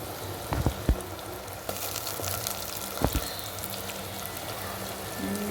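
Tomatoes fry with browned onions in a pan for khichdi, giving a soft, steady sizzle broken by a few quick clinks and taps.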